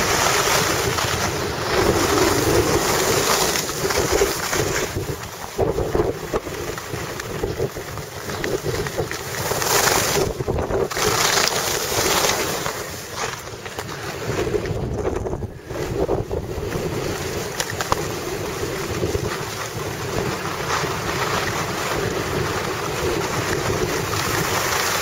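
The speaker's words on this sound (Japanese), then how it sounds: "向かい風が強くて" Strong headwind buffets a cyclist and the microphone on a mountain road course, a loud, continuous roar of wind noise that surges and dips over the whole stretch, with no voices.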